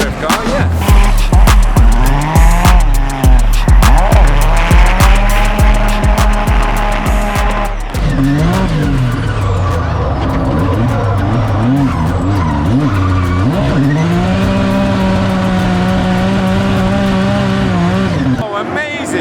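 A 2,000-horsepower drift car screams around a track at a motorsport festival, its tires squealing and the engine roaring, revving and shifting. It is loud and continuous, with rapid bursts of engine pops early on.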